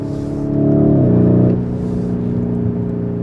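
Lamborghini Urus engine and exhaust while driving, a loud, steady low drone that swells as the revs climb, then eases back to a smooth cruising hum, heard alone.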